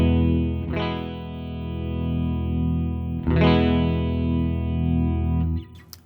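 Electric guitar played through an Alexander Space Force reverb pedal with sine-wave tremolo, two sustained strummed chords ringing with a wide, washy reverb tail and gentle pulsing, loud and alone, then cut off near the end.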